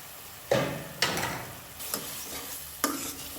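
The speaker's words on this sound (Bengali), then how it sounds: "এখন এই মশলাটাকে খুব সুন্দর করে কষিয়ে নিতে হবে" Spice masala of chili and coriander powder is worked in a pan, with several loud, close stirring scrapes arriving in bursts over a low, fading sizzle.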